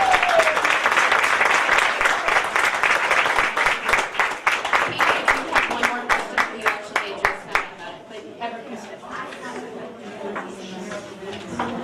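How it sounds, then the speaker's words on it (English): An audience applauds candidates at a forum: a dense burst of clapping that thins into scattered individual claps and fades, with a voice briefly audible at the start. "Let's do a quick round of applause for these wonderful candidates."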